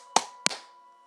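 A pair of quick hand claps in rapid succession, loud and close, with a brief ring fading into a quiet room afterward.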